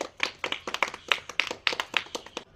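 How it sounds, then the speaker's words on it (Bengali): Family members clap by hand during a playful home game challenge. The claps are close, sharp and quick, rattling along in an uneven, excited rhythm with brief gaps. "তো সবাই হাততালি হাততালি হাততালি"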